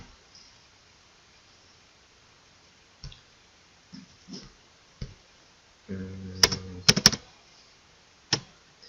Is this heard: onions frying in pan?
no